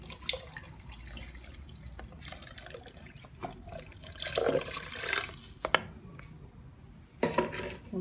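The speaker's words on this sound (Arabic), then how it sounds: "كنرويو بهذا القياس تاع الماء هذا." Water poured into a pot on a home stove while making Moroccan harira soup, a steady splashing flow with a few clinks of the pot, fairly close and moderate in level, no talking.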